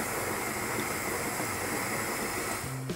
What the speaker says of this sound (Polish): woda tam troszkę bulgocze